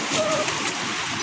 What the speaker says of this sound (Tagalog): Lakas na naman po ng ulan.